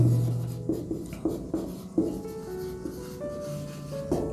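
Pen scratching on paper close by, short quick strokes in a steady rhythm of separate scribbles over a low background hum.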